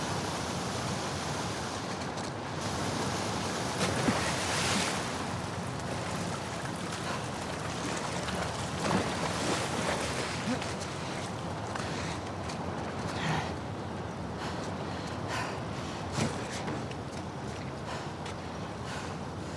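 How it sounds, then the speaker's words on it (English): Fast, heavy water rushing through a sewer in The Last of Us Part II: a steady, loud broadband roar and hiss that holds for the whole stretch, with small splashy surges now and then. "the player was faced with a fast-flowing torrent of water they couldn't cross"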